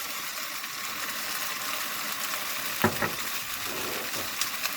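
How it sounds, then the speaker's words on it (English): Cajun fried rice stirred in a hot pan, a steady close sizzle throughout with a few sharp scrapes of the utensil against the pan, no talking. "Give it a couple more stirs."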